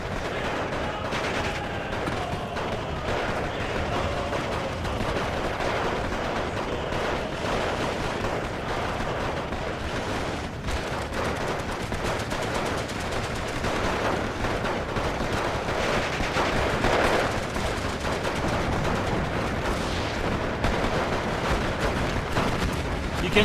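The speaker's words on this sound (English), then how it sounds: "We've had the first fires of the machine gun shooting." Machine gun fire and other battlefield gunfire from the video game Steel Division II form a dense, continuous barrage of overlapping shots and rumble, loud and unbroken throughout.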